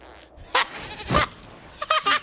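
A goat bleats several times in the Dragon Age: Inquisition fantasy role-playing game, short nasal cries that come in quick bursts, loud and close against a quiet game backdrop.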